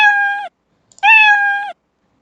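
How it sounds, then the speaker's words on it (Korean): Two clear, close cat meows played as a sound effect from a program when a flag is clicked, each about half a second long with a short gap between them and no other sound around them. "정말 깃발을 클릭을 했을 때 야옹 소리가 나는지 한번 보도록 할게요."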